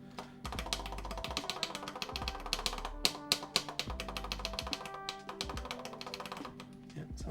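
Mechanical keyboard keys with a keycap borrowed from another keyboard being pressed and bottomed out, a dense run of fast, close, clacky taps and rattles that goes on steadily throughout, with louder individual strikes near the middle.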